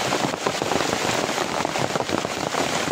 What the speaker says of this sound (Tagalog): sobrang lakas ng ulan, saka nabutan kami dito